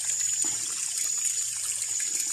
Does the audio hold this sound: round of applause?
no